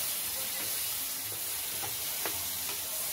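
Apple pie filling simmering in a pan gives a steady soft sizzle and bubbling hiss, with a few faint stirring clinks, low and continuous throughout with no talking.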